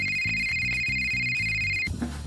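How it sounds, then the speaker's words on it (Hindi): A phone ringtone plays with a repeating rhythmic pattern and a steady high tone, close and clear, briefly overlapped by other sound at the end. "फोन बज रहा था"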